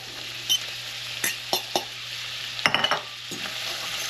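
Langostino lobster meat sizzling in a butter and paprika mixture in a pan, a constant close frying hiss broken by a few sharp clacks and a quick cluster of utensil scrapes, no voices.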